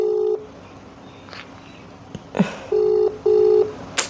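A phone call goes out and rings without being picked up: a loud ringback tone cuts off, then a pause with a brief rustle, then two more clear tone pulses in a double-ring pattern.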